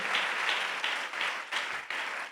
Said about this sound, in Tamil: என்ன விசுவாச கைத்தட்டு.